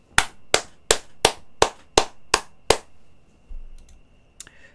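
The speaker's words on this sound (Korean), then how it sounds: "박수 한번 치시죠." Eight sharp, evenly spaced claps ring out loud and close in a steady rhythm, like a single person or small group clapping at a sales coaching seminar, followed by quiet room noise and a few faint clicks.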